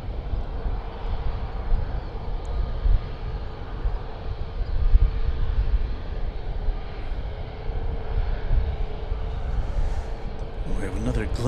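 An airliner on approach to land at Dallas/Fort Worth International Airport, a steady broadband jet roar that holds throughout at moderate distance, with a rumbling low end and faint background noise.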